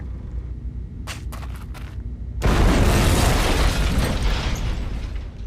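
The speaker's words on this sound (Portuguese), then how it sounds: "Explodiu também" A bomb goes off in the video game Syberia: after a few sharp metallic clanks, a sudden loud blast erupts and rumbles on, fading slowly over several seconds.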